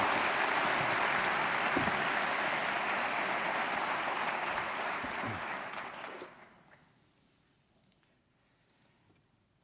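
A crowd applauds loudly and steadily for several seconds at a debate between Christopher Hitchens and Dinesh D'Souza at CU-Boulder, then the clapping fades away into near silence.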